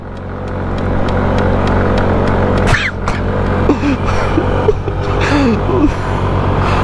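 A SYM 125cc motorcycle engine held at full throttle while climbing a hill, giving a steady loud droning roar with wind rush and a few brief vocal sounds over it.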